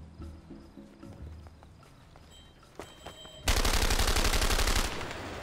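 Sustained automatic gunfire in the video game A Way Out, a dense rapid burst lasting over a second, loud and close, following quieter scattered game sounds.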